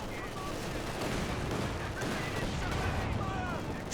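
Bursts of MG42 machine gun fire in Company of Heroes 2 rattle continuously amid battle noise, with a commentator talking over the action.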